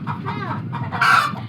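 Chickens cluck nearby in a quick run of throaty calls, ending with one louder, higher squawk.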